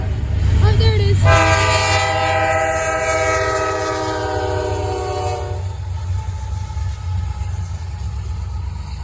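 A Norfolk Southern freight train led by seven locomotives, including an ex-BNSF unit and NS 4000, sounds a loud sustained chord horn for several seconds over heavy diesel rumble, then the engines keep roaring past.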